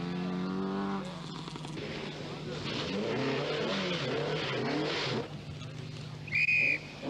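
An Opel Manta 500 rally car, driven by Jimmy McRae, runs a stage of the Welsh International Rally, its engine revving and surging over several seconds at moderate distance, with a brief high whine near the end.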